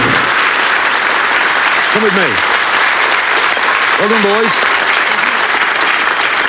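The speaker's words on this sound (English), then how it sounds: "Round of applause." A TV game show studio audience claps in loud, sustained applause that fills the whole stretch, while a host speaks briefly over it.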